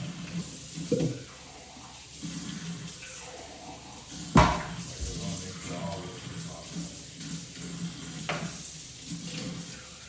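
Water running from a sink tap while nail tools are rinsed, a steady hissing splash under a person talking, with one sharper clatter partway through.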